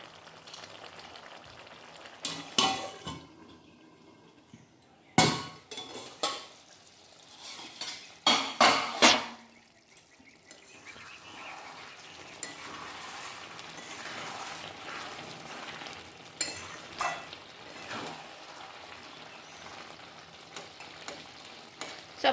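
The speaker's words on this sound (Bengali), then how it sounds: "তো আমি এবারে তরকারির মধ্যে ঢ্যাঁড়সটা দিয়ে দিচ্ছি।" Okra simmering in a curry in a pan, a soft background sizzle broken by clusters of loud clanks and scrapes from a utensil and lid against the pan, quieter and steadier in the second half.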